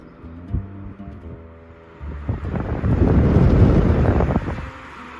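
A Levoit pet air purifier fan whirs up through its speeds, a low hum giving way to a louder, broad rush of air that swells and holds steady at maximum near the end.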